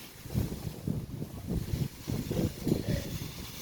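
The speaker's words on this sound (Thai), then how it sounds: "ลมแรงมากเลยแม่ค่ะ" Strong wind gusts buffet the microphone in rumbling bursts, rising and falling over a few seconds with no talking.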